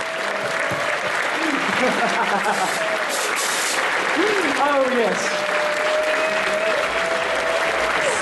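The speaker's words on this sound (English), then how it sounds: "Give him an applause!" An audience at a furry convention claps steadily for a performer, a dense wash of applause running the whole time, with brief cheers and a voice calling out over it.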